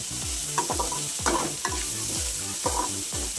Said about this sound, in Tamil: எல்லா காயும் ஒன்றா போட்டுடலாம் காயும் வந்து ஃபிஃப்டி பர்சன்டேஜ் வதங்கினா போதும்